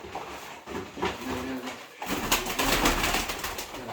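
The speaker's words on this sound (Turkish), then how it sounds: "Burada iki tarafın kuşları." Pigeons or doves at a bird sale table give soft, repeated cooing and rustling calls close by, with handling noise and a burst of louder movement in the second half.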